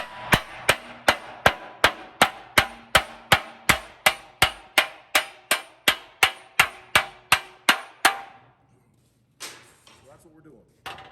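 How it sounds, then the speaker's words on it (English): A hammer strikes a steel car fender panel on a wooden stump, about twenty sharp ringing blows in an even rhythm, then a pause and a few softer knocks and scrapes. "you want to use a hammer to put it on a flat spot"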